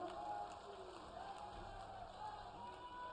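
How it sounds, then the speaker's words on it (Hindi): A large crowd at an open-air public rally in Udaipur, Rajasthan, produces a dense, steady roar of clapping and cheering that continues without a break. "एक बार करतल ध्वनि के साथ तालियों की गड़गड़ाहट से स्वागत अभिनंदन।"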